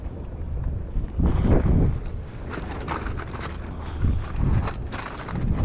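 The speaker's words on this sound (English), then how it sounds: "It is freaking windy." Strong wind blows on a shore while fishing for tautog, buffeting the microphone in loud rumbling gusts that rise and fall, with the sea faintly underneath.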